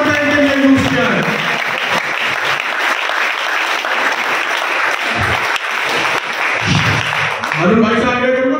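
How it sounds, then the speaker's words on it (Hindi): Loud, sustained applause from a large audience welcoming an honoree at a felicitation ceremony, steady clapping throughout with crowd noise and voices rising near the end. "हमारे जोरदार तालियों से स्वागत, तालियों की कड़कड़ाहट उन लोगों तक पहुंचनी चाहिए"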